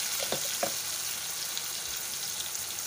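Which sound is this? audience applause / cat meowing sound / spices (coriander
spices (coriander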